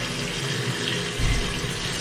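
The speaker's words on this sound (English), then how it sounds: "The water's running pretty clear right now." A bathroom tap runs water into a bottle, a continuous close rushing and splashing that stays loud and steady throughout, with no one speaking.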